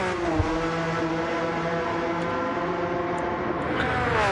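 A race car engine at the Nürburgring 24-hour race drones loudly and continuously, its harmonic tone slowly shifting in pitch as the car holds speed, with no voices over it.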